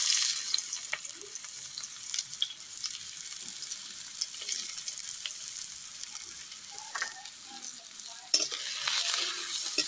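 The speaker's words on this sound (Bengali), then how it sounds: "তেল ভালোভাবে গরম হয়ে গেছে, এবার আমি পেঁয়াজ কুচিটা দিয়ে দেবো তেলের মধ্যে" Sliced onions sizzle in hot oil in a pan, a soft steady crackling hiss with occasional stirring scrapes, fairly quiet and close, no talking.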